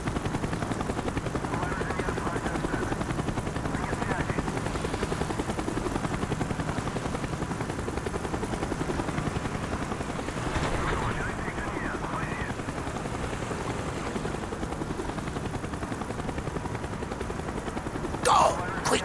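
A helicopter in the Call of Duty Black Ops video game drones steadily overhead as a continuous low rumbling throb, with distant gunfire and muffled game voices mixed in beneath it.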